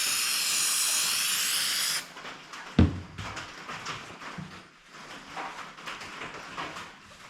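Aerosol brake cleaner sprays onto a Ford 351 Cleveland engine part in a loud, steady hiss lasting about two seconds, then stops, followed by a clunk and quieter handling noises.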